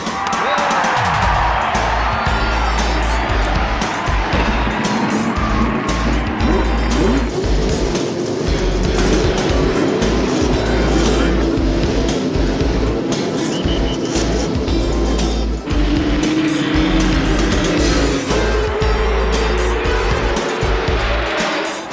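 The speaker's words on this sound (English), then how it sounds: "Gentlemen, start your engines." Roaring Indy car engines at the Indianapolis 500 in the 1980s, a dense continuous drone of many cars passing and revving on the track, with crowd noise underneath.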